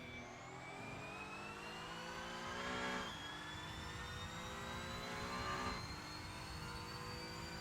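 Honda NSX GT3 Evo race car engine at Zandvoort, loud and steady at high revs, with rising harmonic pitch and two brief upshift dips before it climbs again; no talk.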